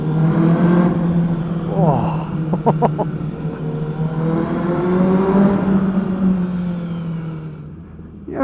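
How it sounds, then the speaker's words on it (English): A car's aftermarket exhaust revs inside a tunnel, the engine note rising and falling with a booming echo, loud and close, while a person lets out a brief exclamation over it. "This sounds so good in this tunnel with this exhaust."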